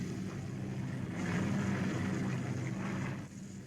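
Low steady drone of a WW2-era aircraft flying overhead, a continuous engine rumble holding at a fairly even level with no voices.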